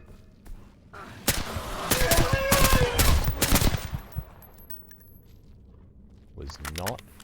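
Rapid gunfire from a shooter video game crackles in dense bursts at close range, loudest through the middle stretch, with a player's voice talking over parts of it before the shooting thins out.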